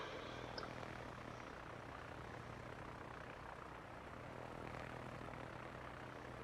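Propeller-driven torpedo bomber aircraft flying in the naval combat game World of Warships, a steady, fairly faint engine drone sustained throughout with no talk.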